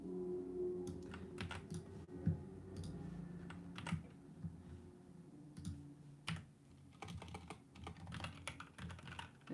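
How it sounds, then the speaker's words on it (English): Soft, quiet typing on a computer keyboard, with irregular clusters of light key taps and pauses over a low background hum, close and gentle. "It's a little ASMR-y, right? With that typing and stuff."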